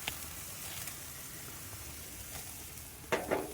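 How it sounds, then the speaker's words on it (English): Beef burgers sizzle on a Char-Broil grill, a steady soft crackle that runs throughout at moderate distance, with a couple of brief clatters near the end. "I'll put hers toward the back and let them slow cook while I'm cooking the beef"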